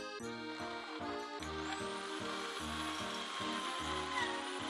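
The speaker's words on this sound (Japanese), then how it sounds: "下の方の横からも空気が入る穴を開けます" Drilling air holes into a small Swedish torch log: a steady power-drill whir and grinding noise runs through most of the clip, partly masked by louder background music with rhythmic chords.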